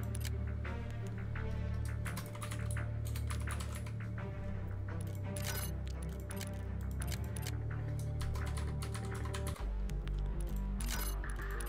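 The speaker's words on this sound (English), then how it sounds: "I'm typing in so many things." Fast, continuous typing on a computer keyboard, dense clattering keystrokes close up over a steady low hum, going on for the full stretch without talk.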